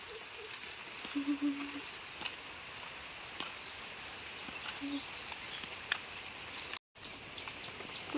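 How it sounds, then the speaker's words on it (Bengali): Heavy monsoon rain falls as a steady, fairly faint patter on surfaces outdoors, with scattered louder drops and a brief dropout near the end. "ভালো জোরে বৃষ্টি পড়তেছে"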